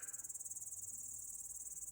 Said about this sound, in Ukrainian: Це коники і інші жучки, які живуть в костах.